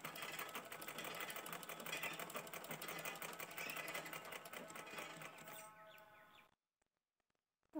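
A home sewing machine, long unused and nearly rusted from sitting idle, runs in one steady, close, rapid rattling stitch for about six seconds, then stops abruptly into near silence.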